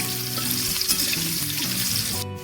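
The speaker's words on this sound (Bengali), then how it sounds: "প্রথমে ডাঁটাটাকে দিয়ে দিলাম।" Drumstick stalks frying in a pan for a Bengali jackfruit and drumstick curry, a loud, continuous close-up sizzle with a dense hiss that drops slightly near the end, no talking.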